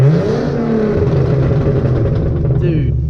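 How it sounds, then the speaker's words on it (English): A Hyundai Genesis Coupe 3.8 V6 engine with aftermarket headers revs hard in neutral and holds a loud, rough drone with a deep rumble, then eases slightly near the end; close and continuous. "I'm gonna have to give it some revs back here behind this building in neutral."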